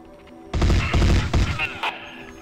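A loud, close fusillade of gunfire in the video game DiRT: Origin Of The Species comes as several heavy, thudding shots in quick succession after a quiet start, then fades to faint tones.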